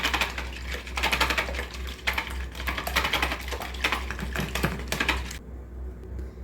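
Eggs being beaten for an omelette produce rapid, rhythmic clattering of a utensil against a bowl, close and steady for several seconds before stopping abruptly, over a low hum.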